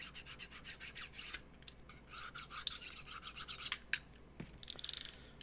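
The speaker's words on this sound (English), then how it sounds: "Let's sharpen this blade up." A blade is drawn through a handheld sharpener while old costumes are being repaired, producing rhythmic, close rasping strokes that speed up into a quick run of short scrapes near the end, with no talking.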